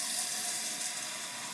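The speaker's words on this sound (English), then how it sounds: "I'm gonna get some warm water on my face" Warm water runs steadily from a bathroom sink tap during a wet-shave lather routine, a constant close hiss and splash with no voices.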